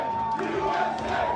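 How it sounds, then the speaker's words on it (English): Hockey fans packed into Stenny's Tavern and Grill in Walker's Point, Milwaukee, cheer on Team USA against Canada, a steady roar of crowd noise with shouts and whoops filling the room throughout. "Milwaukee hockey fans were out in full force to cheer on Team USA."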